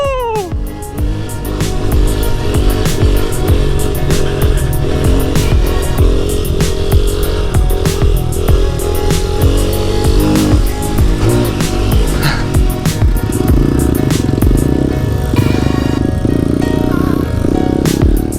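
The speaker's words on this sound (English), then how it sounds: "this thing is definitely the trail bike to have" A trail bike motorcycle climbs a steep trail, its engine droning loud and steady with gear-change surges and rough buffeting throughout, close to the rider and without speech.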